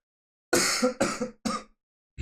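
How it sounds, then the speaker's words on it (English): Three harsh coughs in quick succession, close and fairly loud, followed by a pause and the start of another cough. "I got sick on the way back, so I'm coughing a little bit."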